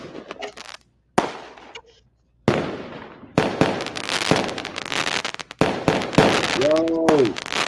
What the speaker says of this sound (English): Y'all can see some fireworks going off right now.